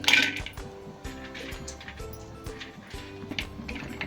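Cashews dropped into a spoonful of hot ghee in a pan at home while making dry fruit laddoos, giving soft clinks and light frying sizzle at close range, with a brief bright rattle at the start and quiet pan sounds after.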